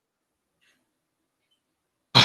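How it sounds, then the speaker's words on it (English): A single sharp sneeze bursts out at the very end after near silence, loud and close. "a sneeze."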